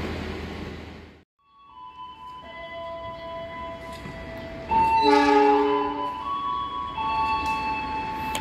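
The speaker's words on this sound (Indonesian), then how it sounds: "Masuk di jalur 2 kereta api Lodaya, teman-teman." The Lodaya passenger train rolls into track 2 of a railway station, a steady rumble of wagons under long, loud, sustained horn tones that rise and layer midway through.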